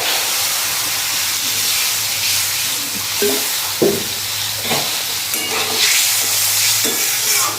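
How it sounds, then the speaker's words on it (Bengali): Water poured onto a fried spice mix in a pan sizzles loudly and steadily, a close, dense hiss with a few short bursts of stirring and bubbling, no voices. "এর মধ্যে এবারে জল দিয়ে দিচ্ছি মশলাটা ভাজা হয়ে গেছে"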